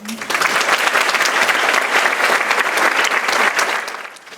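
Loud sustained applause from an audience at a women's summit opening, dense clapping filling the room almost throughout before tapering off at the very end.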